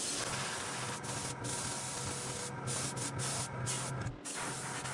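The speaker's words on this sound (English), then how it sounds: "And it is finally spraying very nicely." An airbrush spraying green paint onto a handmade frog splasher topwater fishing lure gives a continuous airy hiss, close and fairly soft, broken by brief pauses as the trigger lets off.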